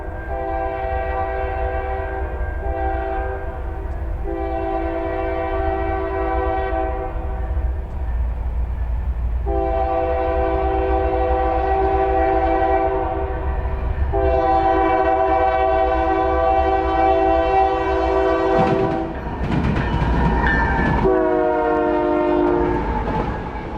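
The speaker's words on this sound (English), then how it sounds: "Z194 is today's designation for an intermodal train that has traveled this line since the 60s." An intermodal freight train, Z194, rumbles past close by on a Mid-America mainline while its horn sounds in several long, loud blasts, with rail noise and squealing toward the end.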